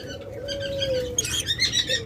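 Pet lovebirds and finches call from nearby: a low, drawn-out note gives way to a burst of quick, bright chirps and twitters near the end.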